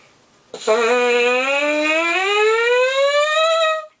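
A voice imitates a siren, sliding steadily upward in pitch for about three seconds in one sustained, loud tone.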